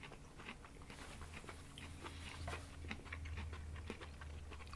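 Crunchy canned corn kernels chewed close to the mouth, a rapid irregular series of crisp bites and crunches over a faint low background hum, with no talking.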